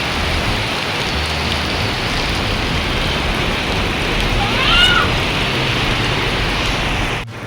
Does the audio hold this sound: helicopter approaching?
no